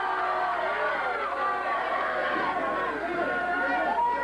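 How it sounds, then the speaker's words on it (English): A crowd hollers at a 1978 Sacramento wrist wrestling match, a dense, steady wall of overlapping shouts and cheering voices filling the hall without pause. "The crowd hollering."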